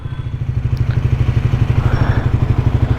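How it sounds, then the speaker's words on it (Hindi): A Triumph Speed 400 motorcycle engine thumps in a steady, even single-cylinder pulse, close and loud, the beat holding for the whole stretch. "सो ये है ट्रायम्फ स्पीड 400।"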